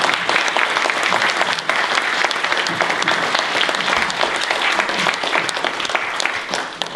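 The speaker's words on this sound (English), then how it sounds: "I'd like you all to give him a round of applause for coming here." Audience applause for a guest speaker at an indoor meeting, a full, even patter of many hands clapping steadily throughout, fairly loud and close.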